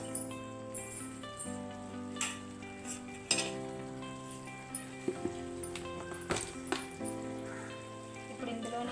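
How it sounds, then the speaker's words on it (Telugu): Eggs fry and sizzle in a pan for egg curry, with a steady crackle broken by a few sharp clinks of a spoon or spatula against the pan, heard close up. "ఎగ్స్ కూడా వేసేసుకుంటున్నాను ఫ్రెండ్స్."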